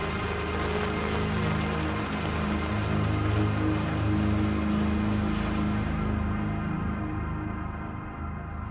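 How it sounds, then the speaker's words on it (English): Rain falls indoors in the game Daymare: 1994 Sandcastle, inside a water supply plant, as a dense steady patter of drops hitting surfaces, continuous and moderately loud, thinning slightly near the end. "Is it raining?"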